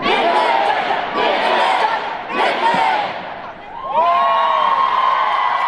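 A large convention panel crowd at L.A. Comic Con 2019 shouts "Mifflin" back in unison several times, loud, rhythmic bursts of massed voices with brief pauses between, ending in a sustained cheer.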